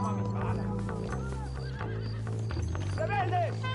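Horses whinny and hooves clip-clop in the video game Red Dead Redemption, heard over a steady musical score with shouting voices mixed in.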